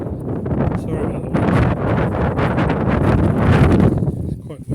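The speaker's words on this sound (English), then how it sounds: "Sorry about the" Wind buffets the microphone on an open Welsh hillside during a long hike, a loud continuous low rumble that gusts and swells throughout without a break.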